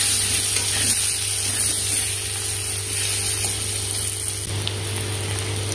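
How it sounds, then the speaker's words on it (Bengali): Potatoes frying in oil with a little salt, a loud, steady close sizzle that continues evenly throughout with a faint constant hum underneath, no voices. "এবার লাল করে ভেজে নেব।"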